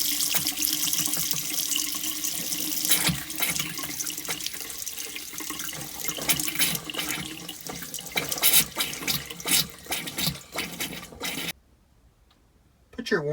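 Water rushes steadily from an opened hot water faucet in an RV with a Truma water heater, a loud continuous hiss that cuts off near the end, leaving near silence.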